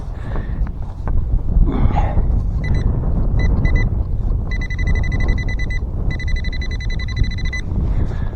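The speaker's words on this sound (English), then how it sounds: "Sounds like pretty strong on the pinpointer." A metal detector pinpointer beeps in rapid electronic pulses in a steady rhythm, coming in long bursts over wind rumble and outdoor noise.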